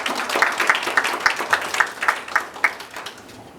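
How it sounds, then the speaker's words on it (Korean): Forum audience in Gwangju welcomes a city council member with clapping that settles into a few strong rhythmic beats, then tapers off toward the end. "큰 박수로 환영해 주시기 바랍니다"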